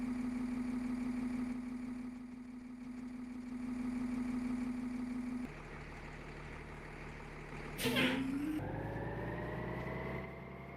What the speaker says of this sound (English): This is the new revving sound, or like when you're beginning to accelerate